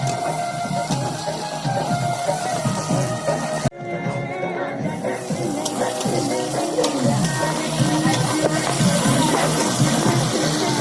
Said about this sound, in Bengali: পেঁয়াজটা ভাজছি।